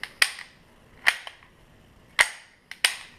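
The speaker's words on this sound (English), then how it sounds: "you have to release the slide and then dry fire it" Sharp metallic clicks from a Ruger Mark III 22/45 Lite .22 pistol as the slide is released and the hammer dry-fired, four crisp snaps spaced unevenly over a few seconds, close and alone.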